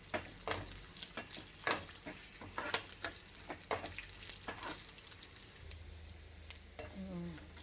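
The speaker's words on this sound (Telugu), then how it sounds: "dry fruits వేగినాయండి" Dry fruits sizzling in a pan for boorelu filling, with repeated sharp scraping stirs of a spatula over a soft hiss, close and fairly quiet, a faint voice near the end.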